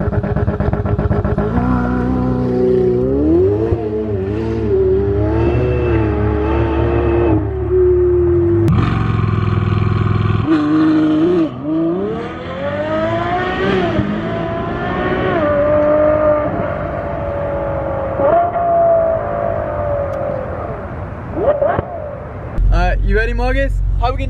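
A Ferrari 488 Pista and a Ferrari 812 Superfast drag race, their engines rising through loud, climbing revs and gear changes, roaring close by, with people talking over parts of it.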